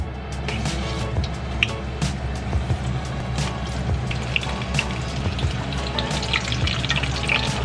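Onion tempura frying lightly in hot oil gives a steady, busy sizzle with scattered pops and crackles throughout, moderately loud and close.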